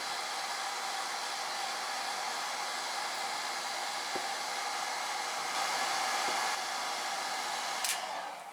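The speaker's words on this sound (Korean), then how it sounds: "헤어 드라이기로 열을 가해주면 됩니다" A hair dryer blows steady broadband air over rusted metal, running continuously at a low level with a few faint clicks.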